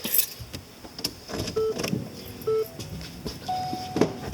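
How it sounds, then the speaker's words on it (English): A Ford car chimes with several short electronic beeps, spaced apart, as the ignition is turned to accessory mode, with light rustling and a faint jangle of keys in the cabin. "cars and accessories, pardon the beeps"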